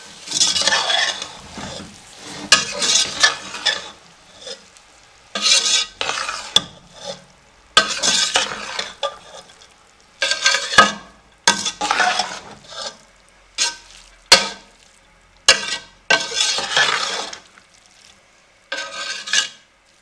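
Zarda sweet rice is stirred in a pot with repeated bursts of scraping and soft sizzling, the spoon working in uneven strokes separated by short pauses, close and fairly loud.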